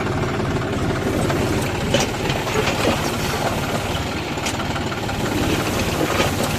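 A tractor engine runs during farm work in a groundnut field, giving a loud, steady chugging rumble with a fast low pulse that holds throughout, with no voices.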